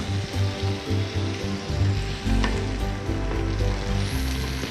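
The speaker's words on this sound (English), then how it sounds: "And stir fry to cook until it is done." Prawns with soy sauce stir-fry in an electric pressure cooker, giving a steady crackling sizzle with faint scraping and stirring bumps over a low background hum, close by and with no talking.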